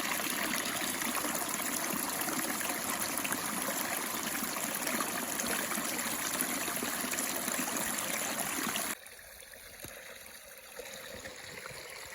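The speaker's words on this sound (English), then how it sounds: "But let's get down to the creek." Mountain creek in the Wyoming backcountry, water rushing and splashing over rocks in a steady, close flow that cuts to a much quieter stretch near the end.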